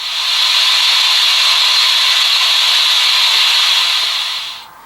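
Steam release from an HO scale Bachmann Spectrum 2-8-0 model locomotive's sound decoder: a steady, loud hiss held for about four seconds before cutting off abruptly.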